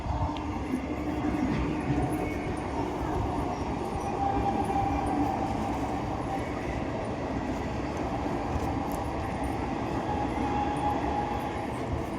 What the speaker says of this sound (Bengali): ট্রেন যাচ্ছে, কি আওয়াজ